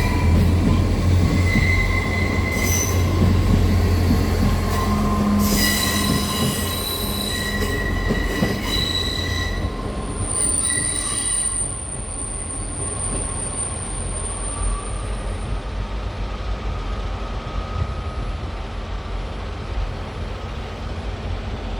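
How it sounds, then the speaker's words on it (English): A Class 159 diesel train rumbles past close by, its wheels squealing in high metallic tones before the sound settles into a steady rolling drone. "There's the first of the 159s."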